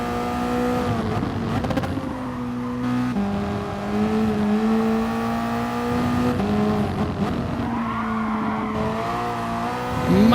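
Tyres squeal on a Toyota race car lapping Red Bull Ring in a racing video game, a drawn-out screech laid over a steady, droning engine note that rises and shifts through corners, with no talk.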